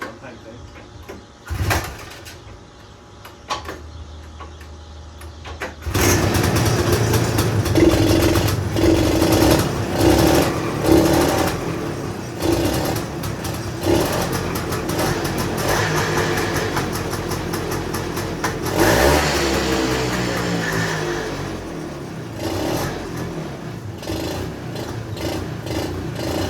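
A 1977 Honda FL250 Odyssey engine starts after a few thumps and clunks, then runs loudly nearby with uneven revving and a falling rev sweep near the end, with people talking at times.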